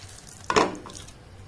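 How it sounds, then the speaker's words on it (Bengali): Chhana (cottage cheese) is stirred in a pan over a low gas flame for sandesh, with a single brief scraping stir in the middle over a quiet, faint sizzle. "গ্যাসের ফ্লেমটাকে এবার একদম লো রেখে কন্টিনিউ এটাকে নাড়াচাড়া করব।"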